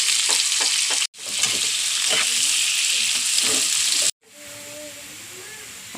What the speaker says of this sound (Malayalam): അപ്പോൾ എണ്ണ കാഞ്ഞു. വറുത്തെടുക്കാനുള്ള സബോള ഇടണം.